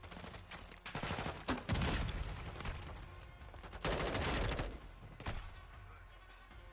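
Gunfire crackles in Modern Warfare 2, bursts of close and distant shots in irregular clusters, fairly faint overall, with a brief voice heard among them.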